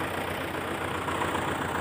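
A tractor engine labours steadily as it tries to pull a trolley stuck in the ground, a loud, continuous, rough drone close by with no talking.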